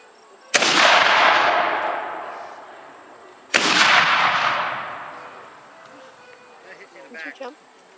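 Two loud black-powder musket volleys at a War of 1812 reenactment, each a sharp blast with a long rolling echo, about three seconds apart, followed by faint clatter and distant voices.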